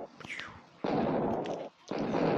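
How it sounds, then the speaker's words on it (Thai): A grenade goes off in a video game as two loud, noisy blasts, each sustained for most of a second, with a short gap between them and brief voice sounds before the first. "ปาระเบิดไปแล้ว"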